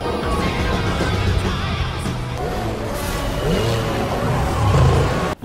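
A DeLorean driving in the racing game Burnout Paradise Remastered on PS5, its steady engine drone shifting in pitch as it accelerates, with tire and road noise throughout.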